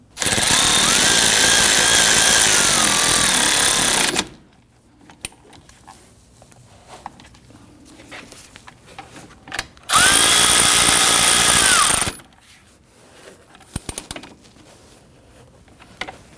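Power tool tightening caliper bolts on a 2005-2010 Chrysler 300 during rear suspension knuckle replacement: two loud, close whirring bursts of about four and two seconds, separated by quiet clicks and handling noises.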